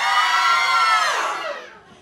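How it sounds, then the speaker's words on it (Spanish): A live audience at a show screams in unison, a loud, dense wall of high-pitched shrieking from a crowd that holds steady for over a second, then fades out. "Solo tenemos que gritar histéricamente cada vez que oigáis la palabra."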